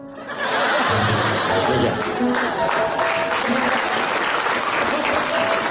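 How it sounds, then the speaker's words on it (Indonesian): Studio audience at an Indonesian comedy debate show bursting into applause, loud dense clapping that swells in quickly and holds steady, with some laughter mixed in. "Nggak usah pakai tepuk tangan kalau buat dia."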